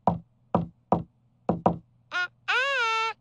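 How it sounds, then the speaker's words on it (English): A cartoon attempt at a secret knock on a door: five crisp knocks in an uneven rhythm, followed by two brief tonal vocal sounds, the last one sustained. "We have to match his secret knock."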